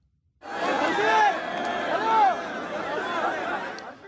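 A large crowd surrounds a van during a chaotic hostage handover in Gaza, with loud, dense chatter and shouting voices rising and falling close by.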